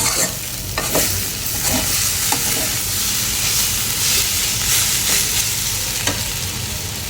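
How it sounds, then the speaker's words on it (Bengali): Jute leaves and lentils cook in a pan with a steady close sizzle and frying hiss, broken by several stirring scrapes, and no voice is heard. "ডাল দিয়ে পাট শাক রান্না করতেছি"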